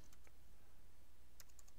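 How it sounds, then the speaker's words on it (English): Quick keystrokes on a computer keyboard, a few light clicks near the start and a short burst toward the end, faint against a quiet room hum. "The first thing I'm going to do is simply type the information I want to type in here."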